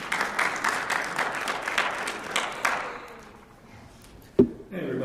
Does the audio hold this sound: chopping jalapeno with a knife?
no